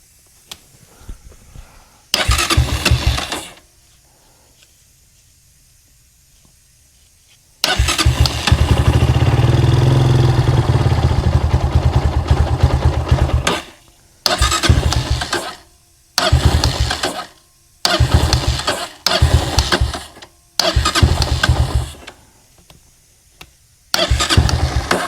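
A dirt bike engine with a freshly cleaned carburetor cranks, catches and idles loudly for several seconds, then fires in a series of short revving bursts separated by quiet gaps.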